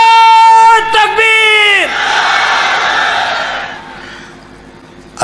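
A large crowd at a religious gathering roars a takbir slogan in unison after a sustained call, a loud massed shout that swells then fades into a diffuse rumble.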